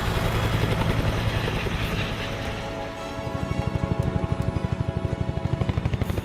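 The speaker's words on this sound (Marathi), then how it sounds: "भारतीय हवाई दलाच्या रुद्र आणि ध्रुव या हेलिकॉप्टर्सनं रुद्र फॉर्मेशन करून उपस्थितांची मनं जिंकली." Indian Air Force Rudra and Dhruv helicopters fly in formation over a Republic Day parade, their engines a loud continuous drone that settles into a steady, rapid rotor thumping in the second half.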